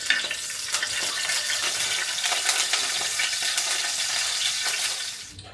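Whole clove, cinnamon and cardamom fry in hot oil in a pan as the base for a traditional crab gravy, giving a steady, dense sizzle with light stirring scrapes that runs unbroken for several seconds before dropping off at the end.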